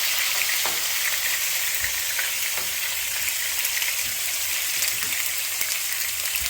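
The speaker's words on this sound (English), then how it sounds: "So the tomato, you saute the tomato first, see?" Tomato sautés in hot oil for a Jamaican curry shrimp, a dense, continuous crackling sizzle close up with faint stirring taps and no talking.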